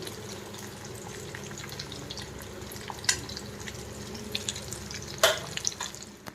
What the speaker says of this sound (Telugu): చూడండి ఫైనల్ గుళ్ళివెందులు ఫ్రై అయిపోయింది